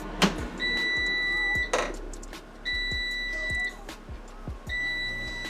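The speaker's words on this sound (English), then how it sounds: "When it stops, you'll hear 3 beeps." A power air fryer oven gives a run of high, steady electronic beeps in three separated bursts when it finishes, with faint clicks and room noise between them.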